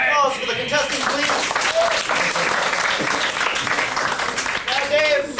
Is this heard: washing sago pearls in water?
no